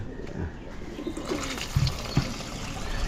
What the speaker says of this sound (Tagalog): Ating mga kalapate, ayan, shoutout sa mga kalapatids dyan.